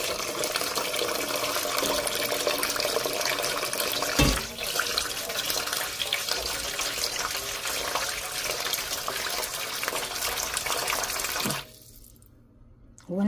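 Water runs steadily from a tap into a container for making kimchi, a loud continuous gush that briefly cuts off near the end before resuming.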